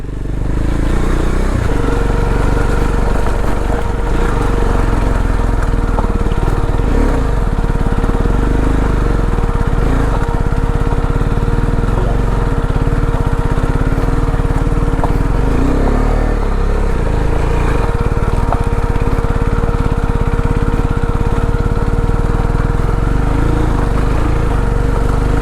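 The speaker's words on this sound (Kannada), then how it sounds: "ಎಷ್ಟು ಸ್ಟೀಪ್ ಇದೆ ಅಂದರೆ ಗಾಡಿ ಅಳ್ತೈತೆ ಹತ್ತಕ್ಕೆ" An off-road vehicle's engine labours steadily up a steep trail slope in rural Karnataka, a loud continuous drone with a persistent mid-pitched whine that holds throughout, with no voices.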